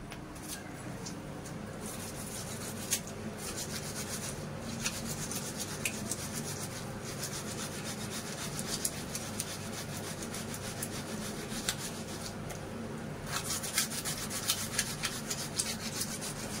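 Ingredients being rubbed and grated by hand to make watermelon juice give a continuous, scratchy rasping close by, with repeated strokes and small knocks throughout.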